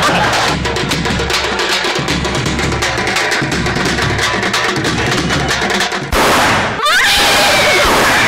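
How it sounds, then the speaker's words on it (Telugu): Gunshots fired at a wedding in a comedy skit come as a loud, dense, nonstop crackle of rapid bursts, ending in a brief sweeping whoosh before the popping resumes. "గన్నెందుకు కాల్చావు?"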